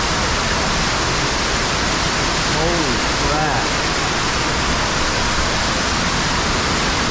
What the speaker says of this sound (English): There's a whole other waterfall right here.